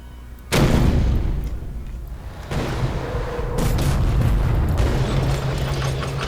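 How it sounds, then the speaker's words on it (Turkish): Blitz tanks assault a base in the World War II card game KARDS, with a sudden loud burst of booming, clanking mechanical battle effects that sustains and swells again, dense and close throughout. "Bir iki Blitz tank geldi. Direkt base'e saldırdılar."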